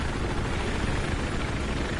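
A helicopter in the video game Battlefield 4 roars in flight with a dense, steady rotor and engine wash, loud and close, filling the sound without pause.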